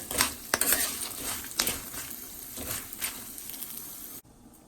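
Turmeric is stirred into a frying pan of oil for Indian lemon rice, giving a soft, continuous sizzle with a few sharp clinks of a spoon against the pan, close up, before cutting off abruptly.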